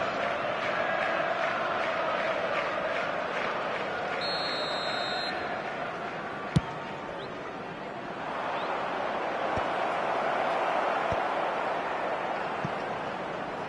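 A full stadium crowd in an eFootball match on PS5 roars steadily across the whole stretch, swelling again in the later seconds, with a few sharp clicks and a brief whistle-like tone over it, mostly without clear talk.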